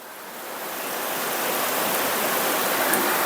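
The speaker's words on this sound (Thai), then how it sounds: "ฝนตกเยอะมากครับ" Heavy rain pours down on a house, a dense, loud, steady hiss that swells slightly and fills the whole space without pause.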